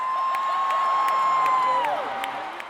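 Men cheering as a sound effect, a crowd of voices whooping and shouting under a sustained whistle-like tone that bends downward, fading near the end.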